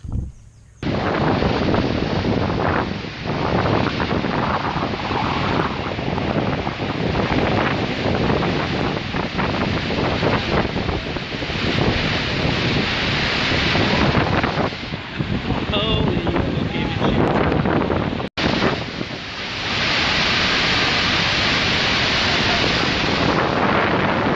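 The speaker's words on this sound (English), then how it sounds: "you're right on top of this huge, massive, powerful sort of horseshoe of a waterfall" The massive horseshoe-shaped waterfall at Iguazu Falls roars continuously, a loud, dense rush mixed with buffeting wind noise on the microphone.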